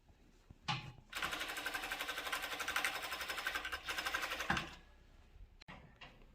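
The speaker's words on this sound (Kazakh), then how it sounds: "Мінекей 3-ші құрағымызды тігіп жатырмыз." A sewing machine stitches velour sofa cover pieces in one steady, rapid run of about three and a half seconds, close and rhythmic, with brief handling knocks before and after.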